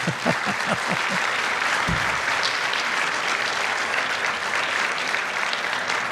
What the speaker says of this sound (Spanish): Un aplauso, por el amor de Dios.